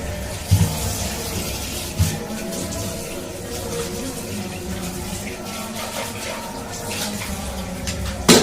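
Boiled potatoes set into cold tap water, with running water flowing steadily throughout and a few sharp knocks and splashes near the start and end, close and moderately loud with no talk.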